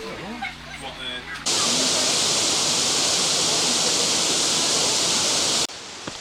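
Janet's Foss waterfall near Malham, a loud, steady rushing roar of falling water that starts abruptly after a short stretch of talk, holds constant, then cuts off sharply near the end.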